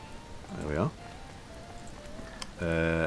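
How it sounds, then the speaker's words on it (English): Rain falls steadily in the survival game Mr Prepper, a constant soft patter running throughout, with a voice talking over it at the start and end. "Oh, look, it's raining again now."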